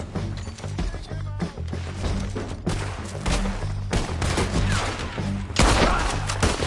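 Loud, dense bursts of gunfire and impacts in a PS4 action game, arriving as repeated volleys with short pauses and a heavy barrage near the end, with some shouting in the mix.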